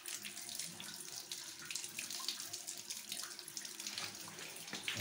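Water runs and splashes steadily through a radiator panel taken off a combi boiler heating system, flushing out debris; a continuous close, tap-like gush with no speech.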